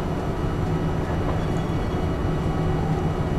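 Simulated tram from Bus Simulator 21 pulling away and rolling, a constant low rumble and mechanical hum, close and even in level, without any voices.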